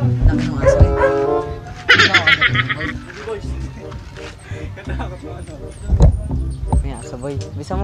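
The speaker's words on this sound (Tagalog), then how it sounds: "May aso, boy, ha?" A dog barks a few times amid loud background music and voices, the barks blending into a busy, cluttered mix.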